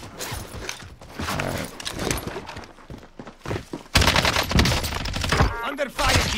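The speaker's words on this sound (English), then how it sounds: "Under fire here." Gunfire in Call of Duty Warzone Season 4 bursts close and loud in rapid, dense volleys across the clip, growing harsher in the second half, with faint player chatter underneath.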